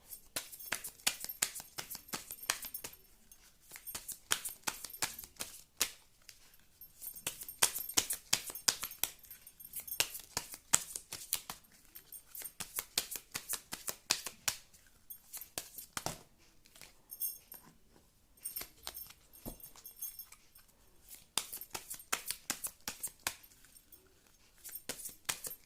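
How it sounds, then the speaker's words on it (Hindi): Tarot cards being shuffled by hand, a long run of quick, crisp riffling and slapping bursts close up, with short pauses between rounds and no speech. "मैंने शफल कर लिए हैं अच्छे से कार्ड्स।"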